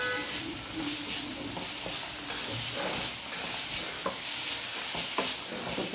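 Masala for chicken masala avalakki fries in a pan, making a constant close hiss and sizzle with soft irregular stirring scrapes, alone without speech.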